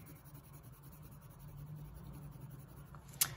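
A Caran d'Ache Luminance 6901 colored pencil is drawn across paper, making a soft, continuous scratchy rubbing close to the microphone. It ends with a sharp little tap.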